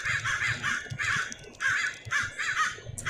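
Crow-like bird caws sound in Minecraft's ambient soundscape with a magic mod pack, heard as about six harsh, evenly spaced calls, fairly close and clear, over a faint background hush.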